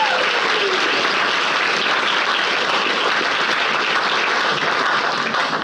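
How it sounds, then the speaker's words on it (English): Sustained, loud applause from a large audience at a wellness symposium, dense and steady throughout with no pauses. "Give them a great round of applause"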